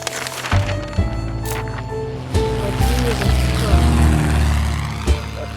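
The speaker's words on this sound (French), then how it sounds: "Un bout d'hélicoptère dehors." A low, droning helicopter rumble with a steady throb carries from outside, with a few muffled knocks and faint background noise nearby.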